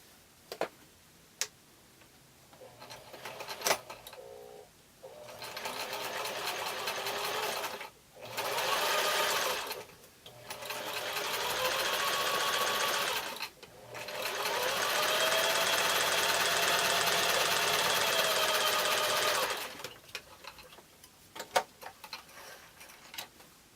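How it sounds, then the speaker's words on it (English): A sewing machine stitches quilt fabric pieces together in several bursts, each a steady fast mechanical whir lasting a few seconds, separated by short pauses with small clicks and handling taps. "Right sides of fabric together. And we'll go ahead and stitch these together."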